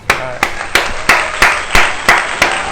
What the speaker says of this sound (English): let's give a standing ovation, a round of applause for my brother, Tarik Brown